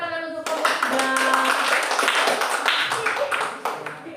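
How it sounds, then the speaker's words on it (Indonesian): Classroom applause for a student group, a burst of many hands clapping close and fairly loud for several seconds, mixed with children's voices and chatter. "tepuk tangan untuk kelompok 3"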